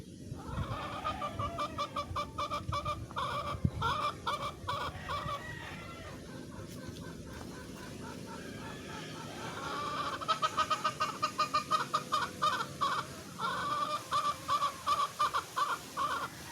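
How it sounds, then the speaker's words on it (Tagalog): Chickens cluck steadily throughout, a busy chorus of short rhythmic clucks from several birds, closer and louder in bursts toward the end. "nag-iingay na yung mga manok ko"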